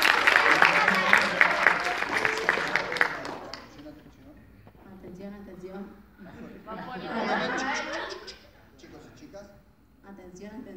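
A burst of applause and clapping mixed with crowd chatter at the start of a book fair talk, then voices chatter and call out with scattered claps.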